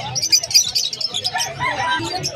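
Pet birds such as rainbow budgerigars chirping and tweeting in cages at a bustling Sunday bird market, bright overlapping calls close by under crowd babble and nearby talking.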